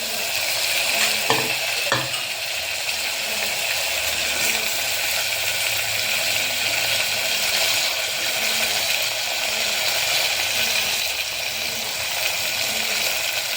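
Washed potatoes hit hot oil for tempering in a pan, producing a loud, continuous close sizzle with a few sharp clatters of a spoon early on and no talking.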